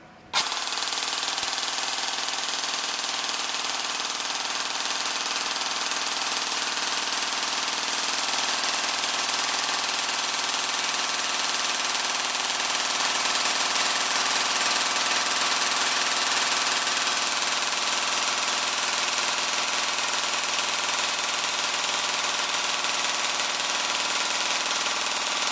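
An APS V2 airsoft gearbox runs on its stock motor as one continuous loud, dense mechanical whir and buzz that holds steady for the whole stretch, close and alone.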